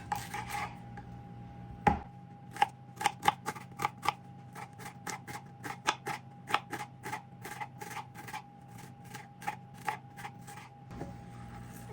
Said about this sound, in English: So I will start out by cutting the onions.